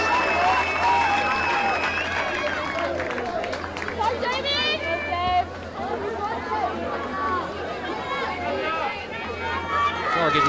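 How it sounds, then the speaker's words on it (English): A crowd cheers and roars after a goal in the Reef Cup 2022 women's final, a loud continuous wall of shouting and whistles with a commentator's voice running over it throughout. "Crowd is loving this."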